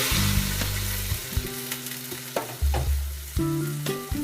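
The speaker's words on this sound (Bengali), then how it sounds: "প্রত্যেকটা সবজি ভালো করে ফ্রাই করে এবার পরিমাণ মতন জল দিয়ে দিচ্ছি" Water poured into a pan of fried bitter gourd, aubergine and potato, setting off a broad hissing sizzle with occasional knocks and scrapes from the pan, with no voice present.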